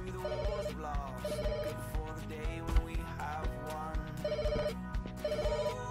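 A telephone in the pet hotel simulation game Pets Hotel rings in repeated electronic bursts of a warbling tone, spaced evenly over a quiet game music background, fairly faint and with no speech.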